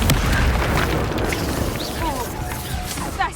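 A Confringo blasting spell explodes in Hogwarts Legacy, a loud crashing boom at the start that fades into a dense, crackling rumble amid game noise.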